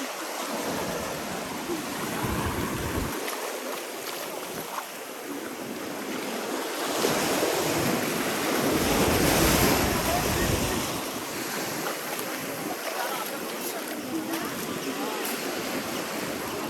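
Arabian Sea surf breaks steadily at Om beach in Gokarna, a continuous broadband wash of waves with wind buffeting the microphone, swelling louder near the middle, with faint voices in the background.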